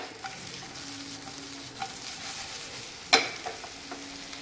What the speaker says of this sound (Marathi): पुन्हा एकदा आपण ही भेंडी व्यवस्थित टॉस करून घेऊया